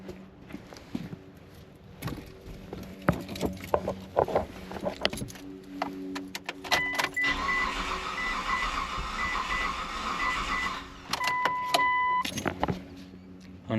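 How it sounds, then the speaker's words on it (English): Car engine with missing hardware and timing belt cover trouble cranking unevenly, a loud irregular mechanical churning with clicks and clanks that surges through the middle, close and without talk. "It definitely sounded like uneven crank"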